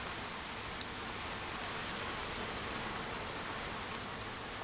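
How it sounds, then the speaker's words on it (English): Steady rain falls across a rainforest home to bushmaster snakes, a dense, even hiss of drops on leaves and ground that continues without a break, fairly distant and with no voices. "As 0 hour approaches for Mark, the rains finally come."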